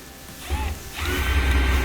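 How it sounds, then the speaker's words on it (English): Screws are tightened on a gas dryer during a repair, producing close mechanical whirring and clicking from a driver that rises and grows louder toward the end. "Just tightening up those screws."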